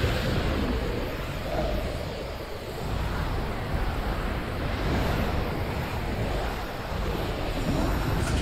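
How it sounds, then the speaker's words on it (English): Wind gusts steadily in Black Myth: Wukong, a constant broad rushing that swells and eases slightly and runs alone the whole time. "The wind gust is just..."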